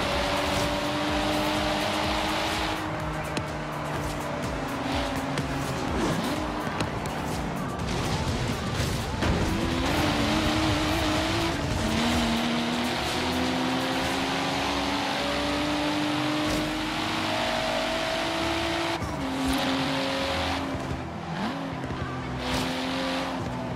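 A Nissan Silvia S15 racing in Forza Horizon 3 on an ocean-view track at the Byron Bay cape: a loud, continuous engine whine that rises and falls through the gears, with tire squeals and skids throughout.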